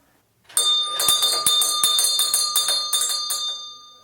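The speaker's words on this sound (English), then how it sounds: "Anna, ring the bell." A servants' bell in Bell's Passage at Tredegar House rings in a quick, steady series of bright metallic strikes for about three seconds, clear and fairly close, with no talk.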